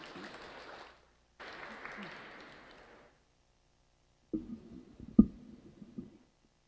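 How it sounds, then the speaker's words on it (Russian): Theatre audience applause fills the opening seconds in two bursts, fairly distant and steady, broken by a short gap. Afterwards a lone voice speaks over a quiet hall with a few sharp knocks. "Ваши аплодисменты."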